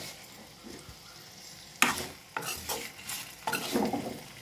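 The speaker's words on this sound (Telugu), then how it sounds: "ఇది ఇప్పుడు కొంచెం వేగాలి ఫ్రెండ్స్. మధ్య మధ్యలో మనం కలుపుతూ ఉండాలి." Taro (colocasia) curry frying in a pan, with a soft sizzle underneath and several distinct scraping stir strokes of a spoon against the pan, close by and without talk.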